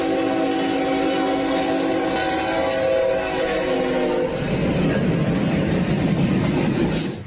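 A train speeds through a level crossing, its horn blaring loud and sustained over the heavy rumble of the cars, then the horn stops and the roaring, rattling rush of the train continues up close.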